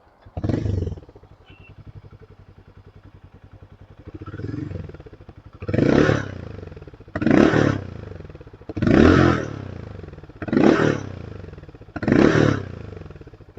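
Royal Enfield X440 motorcycle exhaust revving in five loud, evenly spaced bursts after a short opening blip and a quieter rev, each throaty surge rising and falling back to a low thumping idle.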